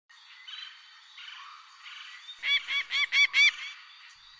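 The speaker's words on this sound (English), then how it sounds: "Hawk." A hawk's harsh, nasal calls, starting with faint distant cries, then a close, loud burst of five rapid honking notes near the end.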